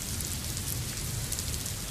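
Heavy monsoon rain pours steadily over Mumbai, a dense, unbroken roar of downpour hitting surfaces with no pauses and no voices.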